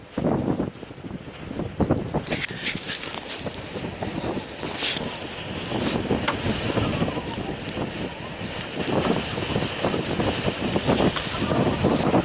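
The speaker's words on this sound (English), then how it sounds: "Boy, that wind is something." Strong wind buffets the microphone outdoors near water, a loud, continuous roaring rush with gusty surges rising and falling throughout.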